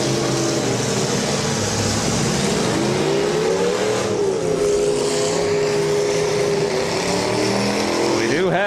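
Demolition derby cars and pickup trucks rev their engines at a county fair derby in Portage County, a loud, continuous roar with rising and falling revs, an announcer's voice talking over the noise.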